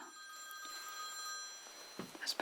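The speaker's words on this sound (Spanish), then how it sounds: "El teléfono siempre suena en momentos inoportunos." A telephone rings quietly in a hushed bar setting, a steady tonal ring followed by faint shuffling and small handling noises near the end.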